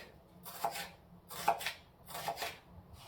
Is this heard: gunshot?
no